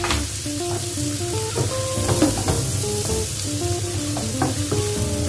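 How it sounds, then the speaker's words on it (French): Chopped onions fry in a pan with a steady, close hiss and crackle of oil, joined by occasional scraping as they are stirred, for a stuffed oven-roasted chicken dish. No one speaks. "Je vais laisser revenir l'oignon tranquillement"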